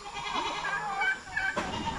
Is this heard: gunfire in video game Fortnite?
no